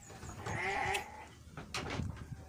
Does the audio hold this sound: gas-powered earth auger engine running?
no